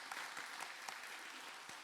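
A church congregation claps together in steady, continuous applause, many hands patting at once with no talking over it.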